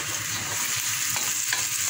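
Onions frying in a pan while cooking masala bhindi, a dense continuous sizzle with occasional spoon scrapes from stirring, close up and without speech.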